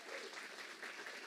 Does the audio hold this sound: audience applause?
yes